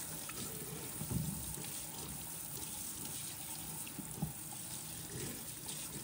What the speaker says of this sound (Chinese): 接着用流动的清水反复冲洗，把表面的泥土、杂质彻底冲净。